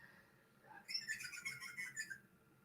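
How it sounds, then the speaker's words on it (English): Birds call outdoors in a short burst of high, whistled chirps lasting about a second over a quiet, low background hum. "We're just listening to the birds here."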